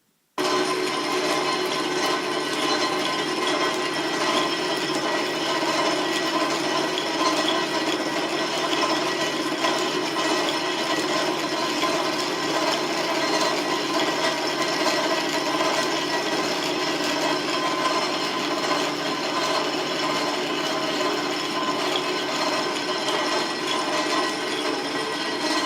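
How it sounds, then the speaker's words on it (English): A Drummond type M lathe runs steadily on its old refurbished electric motor, a continuous whirring mechanical hum with busy gear and belt chatter holding at an even level throughout, with no voices. "I'll do another quick video of the lathe working, showing it automatically stopping."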